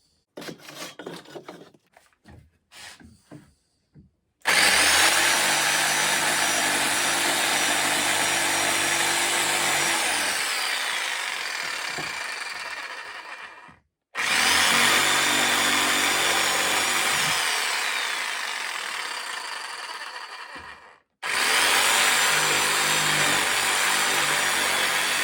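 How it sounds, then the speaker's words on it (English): A jigsaw cuts wood to shape a trowel for making a cement bonsai pot, running in three long loud bursts separated by short pauses, preceded by a few clicks and handling knocks. "the trusty jigsaw."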